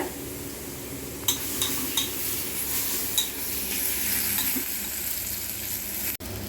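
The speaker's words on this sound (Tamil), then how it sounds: "இதையும் நல்லா கலந்து விட்டு நம்ம கொஞ்சம் ஸ்லோவில் வச்சு போக வர இது பண்ணோம்னா நல்லா முருகலாக வரும்" Plantain stir-fry with chili powder and salt being stirred in a pan for a Mahalaya Amavasai meal: a steady, close sizzle of frying broken by a few sharp metal clinks of a spoon against the pan.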